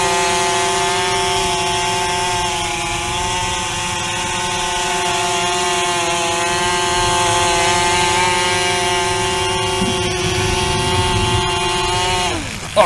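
A homemade bicopter drone with an ESP32 flight controller flies nearby, its two motors giving a loud, steady high-pitched whine that holds for several seconds and then drops sharply at the end.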